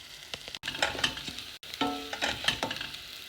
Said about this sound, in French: Je vais faire mijoter un petit peu, juste que le riz s'imprègne des épices.